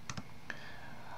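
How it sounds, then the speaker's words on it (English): A Ctrl+A shortcut pressed on a computer keyboard: two quick quiet key clicks close together and a third a moment later, faint against near-silence. "And then I'm pressing Ctrl A on the keyboard."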